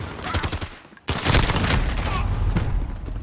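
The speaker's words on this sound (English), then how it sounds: "But it is a light machine gun" Sustained light machine gun fire in the game Call of Duty: Modern Warfare, a loud, dense burst of gunfire that drops out briefly and then resumes.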